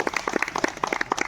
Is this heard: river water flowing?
no